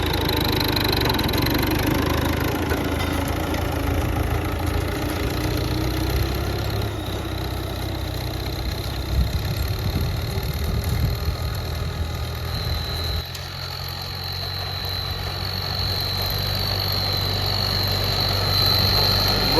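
A tractor engine runs steadily at a farm plot, a continuous low mechanical drone with a thin, high whistling tone riding on top, unbroken for the whole stretch.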